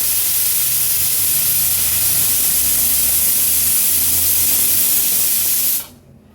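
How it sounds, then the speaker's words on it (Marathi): Loud, steady hiss of steam jetting from a pressure cooker whistle on high flame while cooking a Maharashtrian veg thali, continuous for several seconds and cutting off abruptly at the end. "कुकरचं झाकण लावून घेऊया आणि कुकरच्या 3 ते 4 शिट्ट्या आपण काढून घेणार आहोत"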